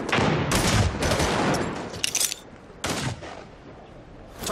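A frag grenade blast and surrounding gunfire in a first-person shooter: a dense, loud burst of shots and blast noise up front, fading into scattered sharp cracks and short volleys.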